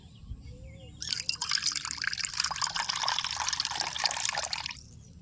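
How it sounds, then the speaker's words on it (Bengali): Water pours into a bowl of freshly squeezed lemon juice in a small riverside village kitchen, a close, bright splashing that starts suddenly and runs for about four seconds. "আমি এটার মধ্যে একটু জল মিশাই এটা পাতলা করে নেব"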